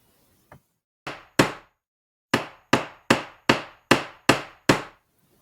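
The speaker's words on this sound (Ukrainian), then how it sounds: "А потім дід став ремонтувати табуретку." Someone hammers while repairing a wooden stool. After a faint tap come two blows, then after a pause a steady run of seven sharp, loud knocks at even intervals, each ringing briefly in a quiet room.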